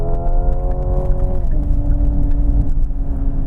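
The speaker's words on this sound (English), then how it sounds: "most drivers post a faster time with the engine sound on" A 2025 Hyundai Ioniq 5 N electric car's simulated engine sound, a steady synthetic hum with layered tonal pitches that shift downward partway through, loud and continuous like a motor under load.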